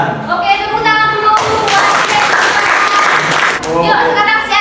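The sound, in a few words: audience applause in a classroom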